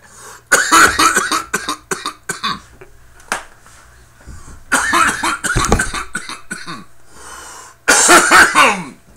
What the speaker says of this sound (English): I haven't coughed like that off the inlay in a while.